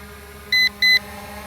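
An Attop W80 drone, returning home and descending over a baseball park, gives two short, bright electronic beeps in quick succession over a faint steady hum.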